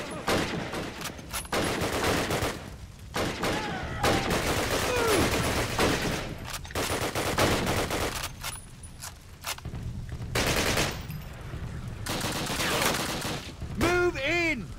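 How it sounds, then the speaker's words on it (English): Dense, continuous gunfire and explosions in a Call of Duty campaign battle, rattling almost without pause at a steady loud level, with a voice talking over the combat in places. "So much bullets flying around."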